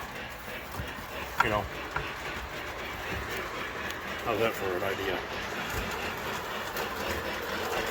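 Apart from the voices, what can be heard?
model train running on track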